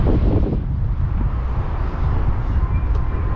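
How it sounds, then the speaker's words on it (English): Wind gusts across the microphone on a new pedestrian bridge over the Vistula river in Warsaw, a loud steady low roar with no talk. "It is windy up here,"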